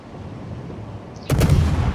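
A gun turret on the warship Chungmu fires in a naval combat game, one heavy, close boom bursting out of a quiet background hum and ringing briefly afterward.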